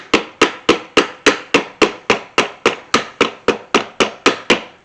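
Sixteen evenly spaced metal hammer strikes, close and loud, bending lock tabs over a nut during a vent window rebuild on a 1973-87 Chevrolet squarebody C10 pickup, each blow ringing briefly before the next.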